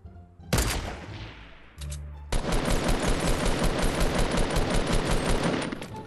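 Gunfire in Fortnite Battle Royale: a sharp shot, then a brief pause, and a long sustained burst of rapid automatic fire, loud and close with no talking.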